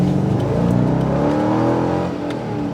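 Corvette Z06 engine pulling hard under acceleration, a loud sustained rising roar heard from inside the car with a slight dip near the end, no voices.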